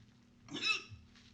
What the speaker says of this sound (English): It has triggered the hiccups.